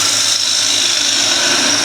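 Wood lathe spinning at 1500 RPM while a gouge cuts a bowl, a loud continuous high whir and hiss of the cut with a steady motor hum underneath.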